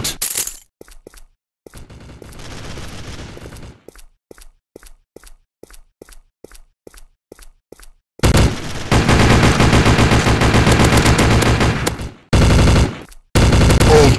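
Bursts of automatic gunfire from the mobile online FPS shooter Combat Strike PRO: scattered single shots and short clicks early, then a long loud sustained volley of rapid fire with brief gaps near the end, close and dominant.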